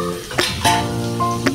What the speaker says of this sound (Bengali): এটা একসঙ্গে সবগুলো জিনিস আমি একসাথে ভাজা ভাজা করছি